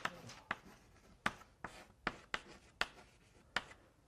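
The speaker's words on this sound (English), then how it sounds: "I'll just write it down." Chalk or pen writing by hand during an MIT machine vision lecture, a series of about nine sharp scratchy strokes and taps in an uneven rhythm, close and fairly quiet, with no talk.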